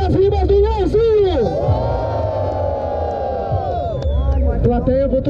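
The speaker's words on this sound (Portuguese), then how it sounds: "Barulho pras rimas do Leozinho." A large crowd roars and shouts together, a sustained loud cheer swelling and fading, with voices rising around it.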